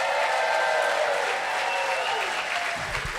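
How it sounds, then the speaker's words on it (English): An audience at a St. Paul teachers' federation gathering cheers and applauds, a loud, continuous roar of clapping and voices that eases slightly toward the end. "All right, so cheer loud."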